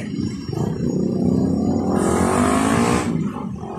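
Steady, loud engine and road noise from vehicles in heavy, congested traffic on a one-way road near Daang Hari toward Alabang, where a bridge and flyover are under construction; a sustained rumble that swells in the middle, with no talk.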